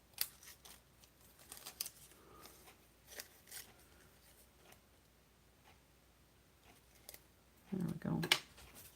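Scissors snip paper while a Christmas card is being made, giving a few faint, quick clicks spaced apart and a louder cluster of cuts near the end in an otherwise quiet room.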